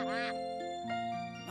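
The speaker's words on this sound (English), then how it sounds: "Do you see how happy our little duck is?" A little cartoon duck gives a quick, bright quack, close and loud over a sustained musical score with a voice nearby.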